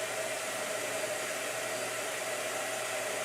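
A blow dryer runs steadily with a continuous broadband whooshing hiss and a faint motor hum, constant in level throughout, with no voices.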